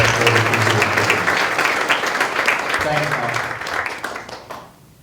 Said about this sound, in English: I hope you can hear the round of applause that is surely to follow